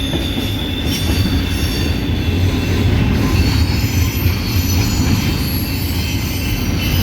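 CSX intermodal freight train I137, led by an AC44 and a rebuilt EMD SD70MAC, rolls past uphill out of Hood siding: a steady, loud, close roar of wheels and cars with continuous rail squeal and clatter, no voices.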